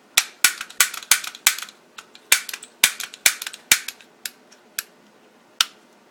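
Toy cap guns fire a rapid series of sharp, loud cracks, roughly twenty in a few seconds, close and dry with short gaps, then a final lone pop after a pause.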